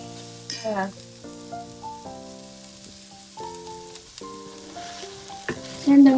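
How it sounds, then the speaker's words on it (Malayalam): Onions sautéing in oil in a pan for a home-cooked Kerala dish, a steady soft sizzle running beneath louder background music with a few brief bursts near the end. "സവോള ആദ്യം വഴറ്റണം."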